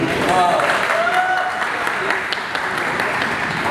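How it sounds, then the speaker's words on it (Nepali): Applause from a studio audience on a Nepali entertainment show: dense, sustained clapping that stays loud and steady throughout. "जोरदार ताली"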